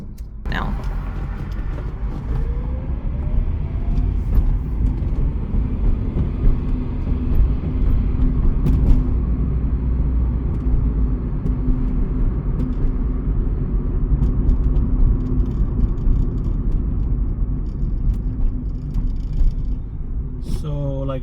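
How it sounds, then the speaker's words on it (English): A 2001 Acura Integra LS drives along, its engine and road noise forming a steady low rumble heard from inside the car, continuous for about twenty seconds with a faint whine rising early on. "just drive it, so that way you can hear and see what it sounds like, the vehicle"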